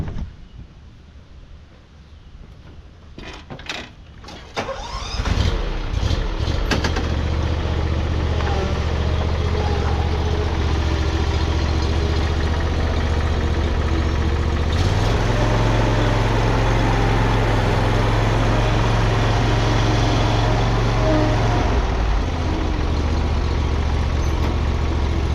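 A Ferris Z1 zero-turn mower engine is pull-started after a few short clicks, catches, and settles into a loud, steady idle. The low drone deepens for several seconds, then eases back.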